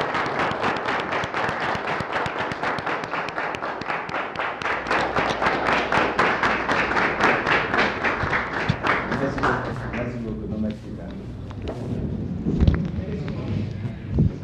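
A large audience applauds steadily at a gathering about trading in Haiti, dense clapping that fades after about ten seconds into scattered claps and murmuring voices.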